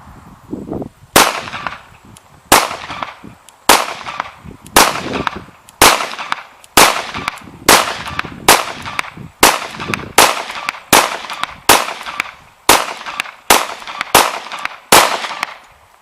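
A Glock 19 pistol fires a long, steady string of about seventeen sharp, loud shots, evenly paced under a second apart, with short ringing decays between them.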